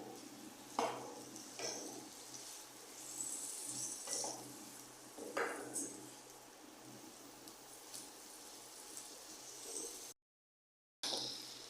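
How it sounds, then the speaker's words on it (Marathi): Mung beans being stir-roasted in a pan, quiet dry sizzling broken by several distinct spoon scrapes and rattles, close up, with a brief silent gap near the end. "आता हे मी मूग चांगले परतून घेत आहे"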